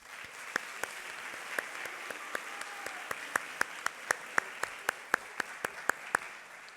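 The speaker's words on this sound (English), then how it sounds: "Let's take a moment to honor them with a round of applause." A graduation audience applauds to honor parents and caregivers, with a soft background of many hands and a few close, crisp claps ringing out in a regular beat that grows louder midway.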